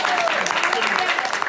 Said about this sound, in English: Extra round of applause for